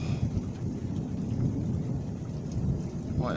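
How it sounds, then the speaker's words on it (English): Heavy thunder rolls through a severe thunderstorm, a low continuous rumble under steady pouring rain, loud and unbroken throughout. "Boy, that thunder's really rolling out there."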